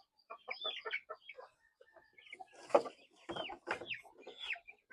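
Native chickens cluck in bursts on a backyard farm, with close, irregular runs of clucks and a sharper squawk near the middle, continuing throughout.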